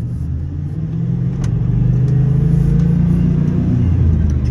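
A 1997 Ford F-250 XLT 4x4 pickup with a 460 V8 and five-speed manual pulls away in first gear, its engine rumbling deep and building steadily as it accelerates, loud and close from inside the cab.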